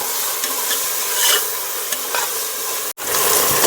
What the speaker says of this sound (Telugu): పుదీనా, కొత్తిమీర వేసేస్తున్నాను. ఇది కూడా బాగా కొంచెం ఫ్రై అవ్వనివ్వాలి.